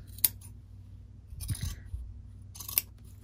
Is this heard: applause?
no